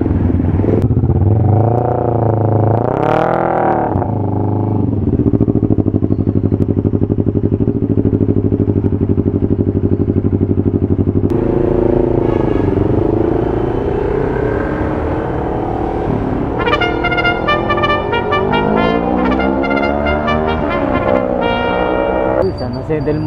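A 650cc motorcycle engine revs loudly and continuously up close, its pitch climbing and falling through repeated throttle blips.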